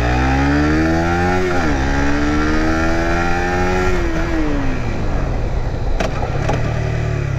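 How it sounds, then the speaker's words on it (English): A motorcycle engine loud and close, its pitch dropping in steps as it slows under engine braking, with a harsh, rasping exhaust tone and rushing wind noise toward the end. "Yeah, very nice engine brake."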